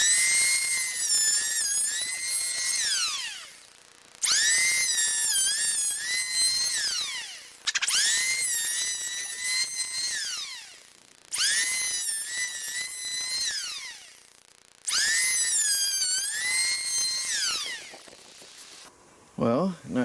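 Jellas electric planer working across a curved wooden piece, five long, loud, high whining passes with short gaps between them, followed by a brief bit of noise at the end.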